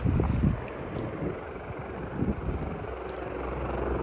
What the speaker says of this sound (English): Ooh, I hear a chopper.